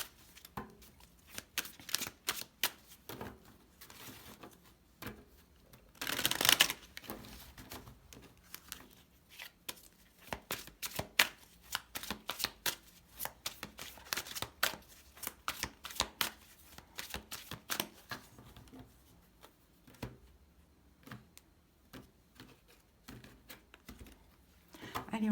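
Tarot cards being shuffled by hand, close and crisp, with a long run of rapid riffling and flicking clicks and one louder burst of cascading cards near the start.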